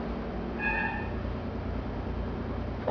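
A cat named Magali gives one short, high meow early on, faint against a steady low background hum, then silence follows.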